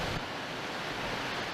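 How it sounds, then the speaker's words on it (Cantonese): Strong typhoon wind roars over the fast-rising Shing Mun River in Sha Tin during a super typhoon storm surge, a dense, unbroken rush of wind and churning water filling the whole moment at steady loudness. "沙田城門河風勢越嚟越猛烈，水位非常急速。"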